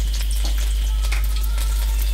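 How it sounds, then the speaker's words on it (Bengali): Thinly sliced garlic fries in hot oil for an eggplant mash, a steady close sizzle with scattered crackles and pops over a constant low hum. "পাতলা পাতলা করে আমি এগুলো তেলের মধ্যে ভেজে নেব"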